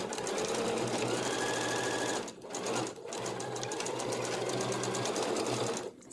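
A sewing machine runs a small stitch back and forth over seam ends on bodice pieces for a flower girl dress, giving a loud, steady whirring clatter with two brief pauses for reversing, and no talking.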